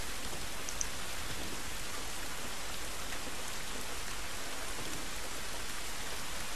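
Steady rainfall from the video game The Last of Us, an even, dense hiss of drops on surfaces that runs unbroken throughout at moderate level, with no talking.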